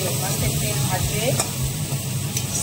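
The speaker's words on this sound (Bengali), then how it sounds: "পাশে আমার বৌমা এই যে মাছের তেল ভাজবে" Fish fat frying in a pan, a loud, dense and steady sizzle close by with faint stirring scrapes mixed in, and a voice murmuring faintly in the background.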